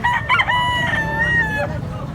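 A big bullstag rooster crows loudly and close by at a chicken market in Carbon, Cebu, one long drawn-out call over steady background noise.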